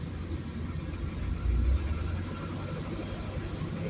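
A 1973 Corvette engine idles with a low, steady rumble and faint vibration, rising slightly for a moment before settling back to an even hum, with no one talking.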